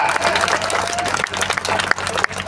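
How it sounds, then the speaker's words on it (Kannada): A crowd at the Mahalakshmi Koravanjidevi temple fair in Khanadal village applauds in a dense, continuous burst of clapping, with a few louder claps standing out. "ನೀವು ಚಪ್ಪಾಳೆ ಹೊಡಿಬೇಕು ಹೊಡಿರೋ ಒಂದ್ ಸ್ವಲ್ಪ ಜೋರ್ಲಿ"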